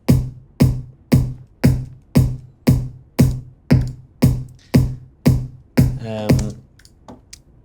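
Punchy kick drum hits land in a steady, even rhythm with crisp hi-hat ticks on top, ending in a brief trailing fill.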